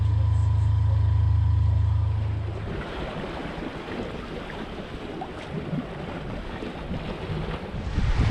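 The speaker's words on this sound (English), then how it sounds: "So it hasn't taken long for the wind to fill in" A sailing boat heads from Cape Gloucester toward Magnetic Island as a steady 10 to 12 knot northwesterly blows. Loud wind rushes and buffets the microphone continuously, with water noise underneath and a low engine-like drone in the first two seconds.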